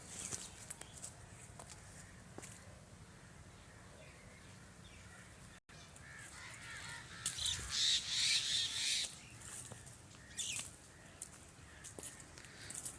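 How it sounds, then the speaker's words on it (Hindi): Birds, crows among them, cawing and calling around an abandoned railway station, scattered calls at a distance over a quiet background, swelling into a louder burst of cawing near the middle before thinning out again. "परिंदों की आवाज़ें मुसलसल आ रही हैं।"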